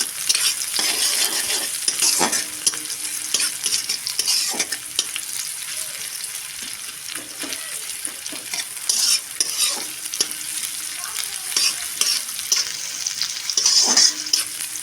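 Chopped onion sizzles loudly in hot oil with tempering spices, close up, while a spoon scrapes and stirs the pan in irregular strokes over a constant hiss.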